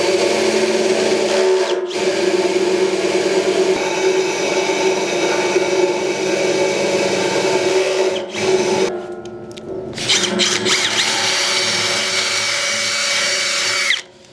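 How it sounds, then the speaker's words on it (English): Power drill boring mounting holes for a Thunderbolt horn bracket: a loud, steady close-up whine that runs for most of the stretch, briefly dips, then picks up again before cutting off. "Alright, we got both holes drilled."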